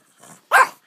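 A dog gives a short soft growl followed by a single sharp bark, close and loud, with no talking.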